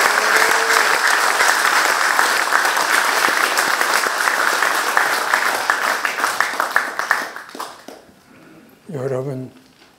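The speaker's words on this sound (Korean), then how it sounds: "여러분, 제주도에 있는 강협의 선생한테 손뼉 한번 쳐드립시다" Loud, close applause from a lecture audience for a teacher from Jeju, dense clapping that thins and scatters into a few last claps, followed by a brief spoken remark.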